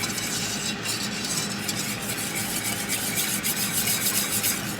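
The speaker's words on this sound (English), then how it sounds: "So I'll keep whisking that" A roux for mac and cheese sauce is whisked continuously, giving a dense, steady scraping and swishing with a faint sizzle, close and unbroken throughout.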